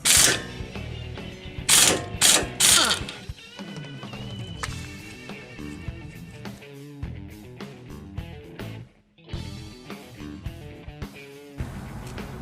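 A wrench tightens the sway bar end link nut on a 2000–2006 Toyota Tundra, giving close metallic ratcheting and clicking in bursts, with a few louder clanks early and quieter working noises after.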